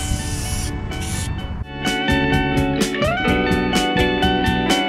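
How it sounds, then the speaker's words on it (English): Pink spray paint hisses from a can onto a half-buried car at Cadillac Ranch in Amarillo, Texas, a loud close spray lasting a second or two before music takes over. "So I have pink spray paint here and we're just gonna leave our mark on one of the..."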